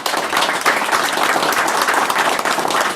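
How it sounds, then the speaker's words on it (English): Sustained audience applause at a meeting, a dense steady wash of many hands clapping at close range, continuing at even loudness throughout with no voices over it. "a big thank you and a big round of applause for Mike for what he's done."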